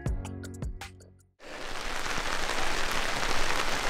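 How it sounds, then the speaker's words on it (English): Short metallic clinks give way to a sudden steady wash of rain, dense and even, pattering on a surface during an ice-fishing trip in Wisconsin. "It's raining."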